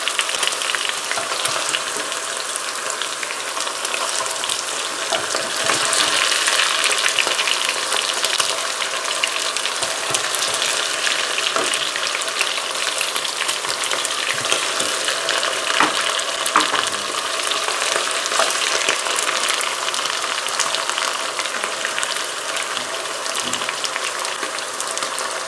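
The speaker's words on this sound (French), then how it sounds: "Maintenant, on va pouvoir mettre la viande un par un." Pork pieces fry in a pan for a Vietnamese caramel pork dish, giving a steady, loud, close crackling sizzle with stirring scrapes running throughout, and no voices.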